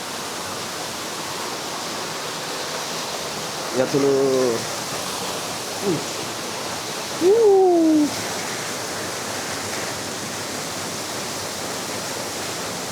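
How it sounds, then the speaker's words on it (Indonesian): Waterfall at Coban Lanang in Batu, Indonesia, heard from below and behind the falls as a steady, dense roaring rush that fills the whole clip, with brief voices speaking over it. "Ini langsung dari bawah air terjun."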